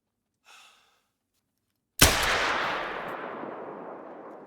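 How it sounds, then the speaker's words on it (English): A single sharp rifle shot from theHunter: Call of the Wild hunting game cracks loudly and rolls into a long fading echo, preceded by a faint soft breath. "We got a shot on him"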